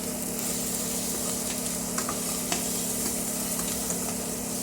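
Garlic and tomatoes sautéing in a pan for monggo soup, a steady dense sizzle with a few faint spatula scrapes and clinks, close and continuous without pause.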